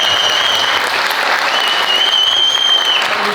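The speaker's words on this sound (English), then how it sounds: "just a round of applause for the girls" Sustained applause from an audience at a women's football club presentation evening, steady and fairly loud throughout with a dense wash of many hands clapping at once.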